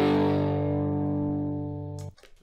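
An electric guitar power chord with a boosted distortion effect rings out loud and sustained, slowly fading over about two seconds before being cut off, followed by a brief bit of handling noise.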